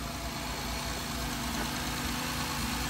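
A 2012 Honda Odyssey engine, just repaired after a rocker arm oil pressure switch fault, idles with a steady, even low hum and faint vibration, close up and constant throughout, with no talking.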